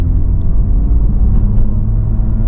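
Steady low rumble of a 2024 Honda Civic Type R engine held in second gear while driving, a continuous close drone with road noise and no clear revving peaks.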